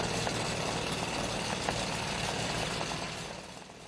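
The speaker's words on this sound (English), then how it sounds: "It's the sound of a reverse engine reverberating through air scoops bouncing off an envelope." An airship's reverse engine over Akron, Ohio reverberates as a steady, rumbling drone with a rough, pulsing texture throughout, fading slightly at the end.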